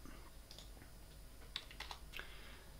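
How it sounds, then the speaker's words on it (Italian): A computer keyboard key, the Enter key, is pressed during keyboard input for a Perl script. Several quiet clicks and taps sound close and faint, with a slightly sharper press near the middle, over low room hiss. "premiamo invio senza inserire alcun valore"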